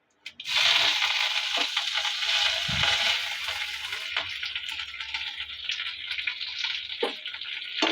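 Fenugreek, curry leaves and a whole dried red chili splutter and crackle in hot oil for tempering idli sambar, a loud steady sizzle that settles slightly toward the end, with a few sharper pops and clinks.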